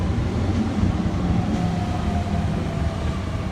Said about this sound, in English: There's the train is now arriving on platform number 4.